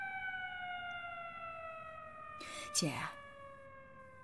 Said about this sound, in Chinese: 外面要拉警报了